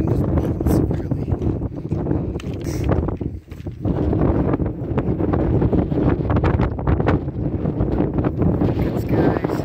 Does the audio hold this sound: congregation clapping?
no